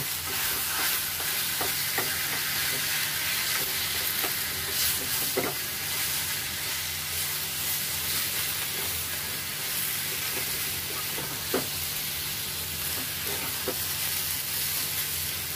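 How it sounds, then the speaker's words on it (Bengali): Steady, quiet sizzling as boiled and crushed elephant apple is stirred with jaggery and sugar in a pan, with occasional scraping clicks of the spoon and a low hum in the background. "কষানো চালতার মধ্যে দুশো গ্রাম আখের গুড় ও একশো গ্রাম চিনি দিয়ে ভালো করে মিশিয়ে নেব"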